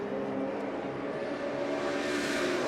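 BMW Z4 and M6 race cars battle at Norisring, with a continuous, strong engine drone that builds in pitch and intensity as the cars accelerate.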